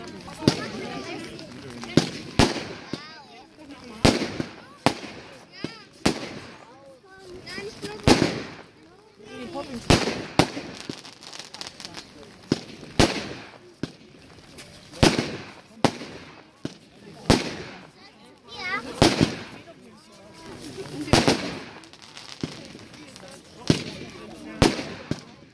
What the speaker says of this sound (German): Zündpunkt Nummer 7, Orient Express, 19 Schuss, 35 Sekunden Brenndauer, auch 12 Euro das Stück, ein goldener Aufstieg mit Blinksternen und Popping Stars.